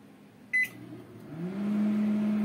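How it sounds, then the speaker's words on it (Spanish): A microwave oven heats a plate of spaghetti bolognese topped with melting cheese, starting with a short beep and then settling into a steady, low, quiet hum. "Se mete el platillo al horno de microondas."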